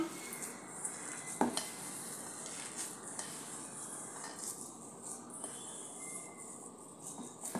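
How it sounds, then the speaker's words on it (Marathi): Mashed potato being mixed in a bowl with salt, chili flakes, black pepper and oregano: steady scraping and stirring with a few utensil clinks against the dish, close and continuous with no talking. "हे सर्व मिक्स करून घेऊया।"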